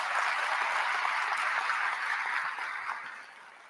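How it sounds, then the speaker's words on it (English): An audience at the Atlanta mayor's State of the City address applauds his family with a dense, steady wash of clapping that gradually fades toward the end. "Give my family a round of applause"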